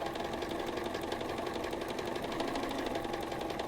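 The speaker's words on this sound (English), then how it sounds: "I'm going to stitch right along the edge." Sewing machine stitching quilt squares runs in a fast, even mechanical whir with a rapid needle clatter, steady and fairly quiet throughout, no voices.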